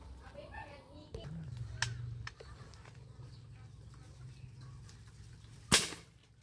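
A hunting gunshot rings out outdoors as one sharp, loud crack near the end, with birds and a voice faintly audible earlier and a low steady hum beneath.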